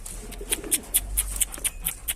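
Pigeons call softly in a steady series of short high chirps, about every quarter second, fairly close, over a low rumbling background.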